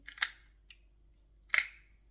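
A small handheld rhinestone applicator clicks twice as it is pressed into hair to set rhinestones, two sharp, close mechanical snaps about a second apart in a quiet room.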